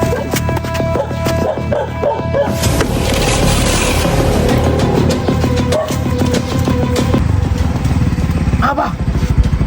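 A motorcycle engine runs nearby, rattling and revving with uneven bursts, while people talk over it.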